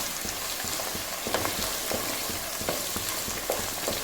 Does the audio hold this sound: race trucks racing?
no